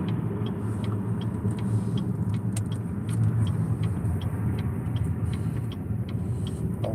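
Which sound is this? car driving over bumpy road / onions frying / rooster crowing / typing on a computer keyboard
car driving over bumpy road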